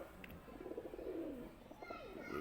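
Pigeons cooing nearby in soft, low rolling calls, with some faint bird chirps mixed in.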